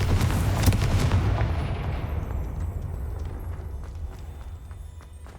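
A Confringo fire spell explodes in Hogwarts Legacy, a loud booming blast at the start that rolls off into a long, fading rumble with scattered crackles.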